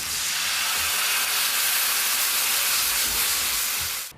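White wine poured into a hot pan of softened onions gives a loud, steady sizzle and steaming hiss, close and sustained for about four seconds before cutting off.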